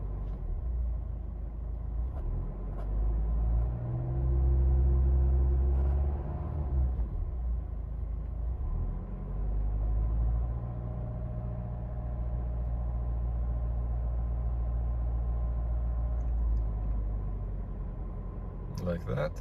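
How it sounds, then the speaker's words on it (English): A Volvo XC60 engine after a fuel filter replacement, rising into a sustained rev, then settling to a steady, low idle rumble that runs on for a long stretch. "Give it some revs to fill the filter."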